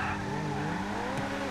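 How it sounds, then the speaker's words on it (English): Car tires spinning and skidding in a racing video game, a continuous high squeal with steady engine drone, close and fairly even throughout, no talk. "I had a lot of wheel spin on that one"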